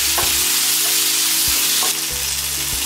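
Tomatoes fry steadily in an oiled pan for a Lakshadweep-style tuna roast, giving a constant loud sizzle with occasional soft stirring knocks of a spoon.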